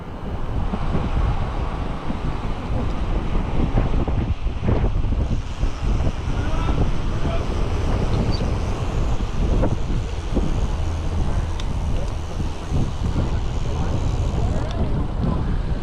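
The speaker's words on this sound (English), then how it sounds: "lots of wind, that's for sure" Strong, steady wind roars across the microphone throughout a gravel bike ride, a loud continuous buffeting rumble with gusty surges, with faint voices underneath.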